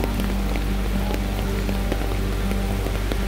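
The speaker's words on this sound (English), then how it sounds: "the rain should be stopping in an hour" Steady rain falls on the Appalachian Trail in Maine's 100 Mile Wilderness in a dense, continuous patter, with scattered louder drops and a low constant hum underneath.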